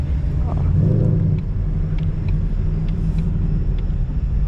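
Cars race at a car meet, a deep continuous engine rumble somewhat distant, with faint clicks and a brief burst of voices early on.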